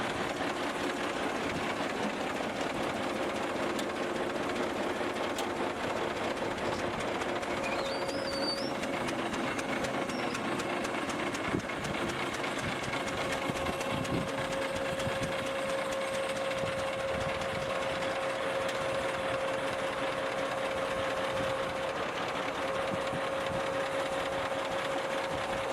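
Vintage Deutz MTZ 320 farm tractor engine idling in a steady, even mechanical drone with rapid clattering, running continuously and unchanged throughout.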